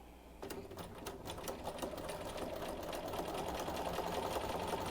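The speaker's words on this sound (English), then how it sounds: "I'm going to start stitching." A sewing machine runs steadily while stitching a quilt block along a quarter-inch seam, a close, continuous rapid chatter that starts abruptly and holds even throughout.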